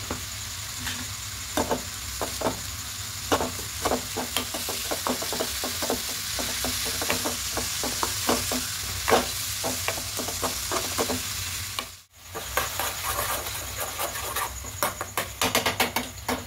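Ripe palm pulp mixture for dudh puli pitha is stirred in a pan, with repeated spoon scrapes and taps over a low sizzle and faint background music. A brief dropout comes near the end.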